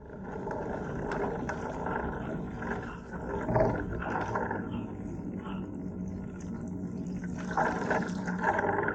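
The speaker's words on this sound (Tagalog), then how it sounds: "Ayan, lakas ng agos, oh. Lakas ng agos." A strong river current rushing after Typhoon Carina makes a continuous, loud roar of water that swells slightly near the start and end, with no talking.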